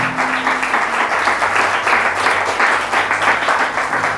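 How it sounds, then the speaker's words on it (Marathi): A sermon audience applauding loudly, a dense, steady wash of many hands clapping together throughout without a break. "या जोरदार टाळ्या वाजूयात आपण"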